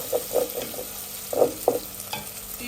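Cumin and spices sizzle in hot oil in a pan for a palak paneer butter masala, with a steady frying hiss and a few louder spoon scrapes and stirs in bursts, close and moderately loud with no voices.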